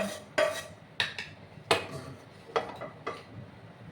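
Roasted spices scraped from a pan into a dish for a pumpkin recipe, heard as about six sharp metal scrapes and clinks at irregular intervals, close and fairly quiet, with no talking.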